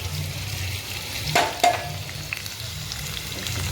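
Diced onions frying in a pan for homemade dal give a soft, steady sizzle close by, with a couple of brief clinks or stirring scrapes partway through.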